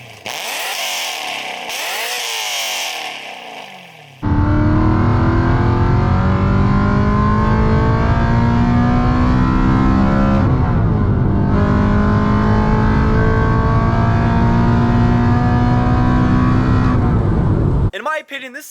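A BMW E92 M3 V8 with a fully straight-piped titanium exhaust opens with a brief burst, then revs hard in long, screaming climbs, one rising sweep after another, very loud and close before cutting off sharply.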